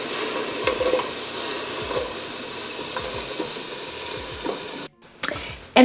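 Leeks sizzling in melted butter in a pot, a continuous close sizzle with stirring scrapes and soft thumps, briefly cutting off near the end before resuming.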